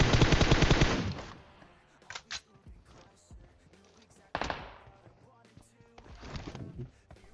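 Bursts of M16 rifle fire in the battle game PUBG Mobile: a loud rapid volley at the start, then shorter sharp bursts scattered through the rest, with a voice talking in between.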